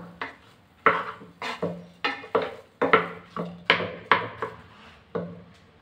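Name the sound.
mixing cooked rice in a pressure cooker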